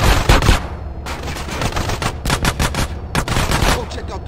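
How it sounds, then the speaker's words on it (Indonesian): Rapid bursts of gunfire in a shootout in GTA San Andreas, played on a phone with a controller, with dense, loud volleys of shots repeating in quick succession throughout. "nostalgia banget ya tembak-tembakannya"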